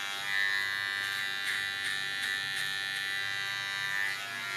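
A small electric hair clipper runs steadily while trimming a short hair contour with a fine comb, a close, continuous buzz with faint rhythmic dips as it passes over the hair, with no talking.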